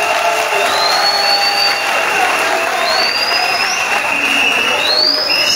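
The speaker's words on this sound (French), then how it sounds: "Applaudissez-les." Dense crowd applause and cheering at a political rally fills the space continuously, with whistles and shouts rising over a steady roar of clapping.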